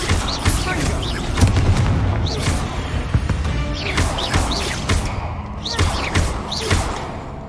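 A Confringo blast spell in Hogwarts Legacy fires off in quick succession, each cast a loud booming burst layered over busy game effects and a voice shouting.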